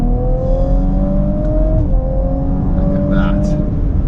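A 2018 Audi RS4 B9 Quattro estate, about 1,700 kg, accelerates hard on an open road, heard from inside. The engine note climbs steadily and stays loud and close, with a brief spoken remark over it.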